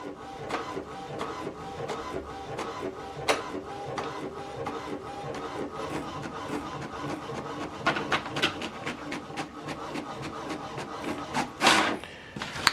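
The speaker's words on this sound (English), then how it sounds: "it will print out this document" An HP DeskJet 3700e all-in-one printer runs through a copy job, a steady mechanical whir broken by repeated clicks and rattling feed bursts, with a louder paper-feed surge near the end.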